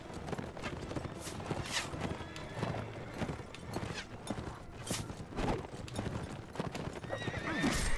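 Cavalry horses in the Mount and Blade Warband video game, with rapid galloping hoofbeats clattering steadily and repeated neighs and whinnies over the top, busy and fairly loud with no talking.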